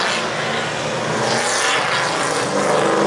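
Sportsman race cars roar around Lake Doucette Motor Speedway at the Maritime All-Star Sportsman Series inaugural race, a dense, loud wash of engines revving and passing together without a break.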